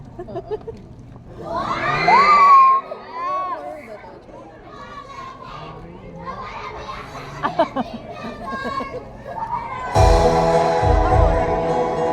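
Audience at a movie screening erupting in excited screams and shouts, with a sharp high shriek early on, scattered chatter in between, and a louder burst of crowd noise near the end.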